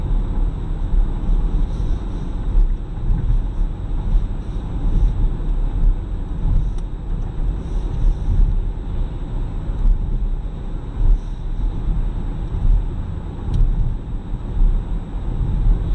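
Steady low engine and road rumble from a 2019 Chevrolet Equinox Premier accelerating gently, heard from inside the cabin as a continuous even drone with no talk.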